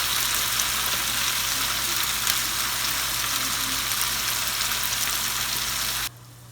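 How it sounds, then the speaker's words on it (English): Potatoes roasting in plenty of oil in a pan, a steady, close hiss and crackle of frying that runs evenly before cutting off abruptly near the end. "The reason I added a lot of oil is because we want it to roast really well."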